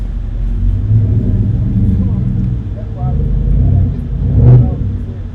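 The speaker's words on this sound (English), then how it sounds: "You guys hear all the cars and stuff driving by?" Cars drive past outside a Microcenter store where people are camping, a low rumbling traffic wash with one vehicle swelling nearer near the end, heard under someone talking.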